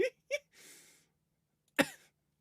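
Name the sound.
coughing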